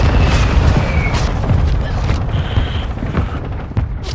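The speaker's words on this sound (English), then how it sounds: "Whose mortars are those?" Mortar shells exploding in a military video game, heavy booming blasts rolling on top of one another in a loud, continuous rumble with scattered crackles.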